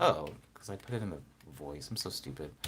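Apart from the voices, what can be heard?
No distinct noise like a dog, phone or traffic.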